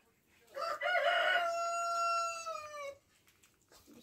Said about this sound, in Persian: مرغی رفت اون زیر قایم شد.